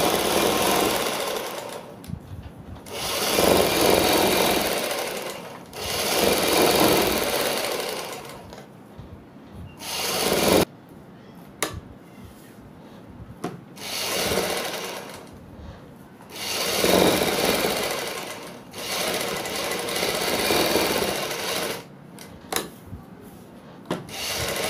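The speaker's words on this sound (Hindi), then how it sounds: "एक साइड हमने दोस्तों सिलाई पूरी कर दी है, तो इस पट्टी के हमने दूसरी साइड भी इसी तरीके से सिलाई लगानी है" A sewing machine stitches a patti onto an angrakha-style suit, whirring in several sustained bursts separated by brief pauses and light handling clicks, with no speech.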